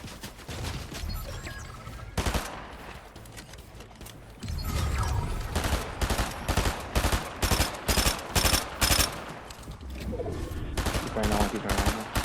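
Gunfire and sniper shots in the Fortnite video game ring out as a run of loud, rapid repeated bursts, with quieter stretches of game noise between volleys.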